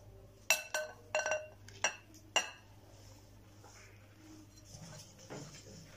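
A spoon clinks sharply against a bowl while 200 grams of maida flour is mixed into cookie batter: five crisp, close knocks in quick succession, then a quiet stretch with soft handling.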